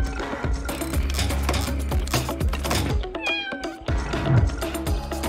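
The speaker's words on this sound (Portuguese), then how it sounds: "Um gatinho está preso!" A kitten meows several times, high plaintive cries over a busy, loud backdrop of music and clatter.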